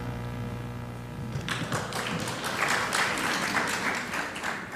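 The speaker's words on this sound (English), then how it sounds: "So you can just get applause for asking a question here." A lecture audience breaks into a round of applause after a question from the floor, dense steady clapping that starts abruptly after a moment of quiet room tone and continues at even strength.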